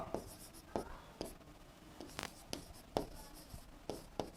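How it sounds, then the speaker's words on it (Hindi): Pen or chalk writing out a memory trick for Rajasthani ornaments: a series of short, sharp scratching strokes at a steady, uneven rhythm, fairly close and moderately loud, with no talk over it. "चलिए लिखते हैं ट्रिक।"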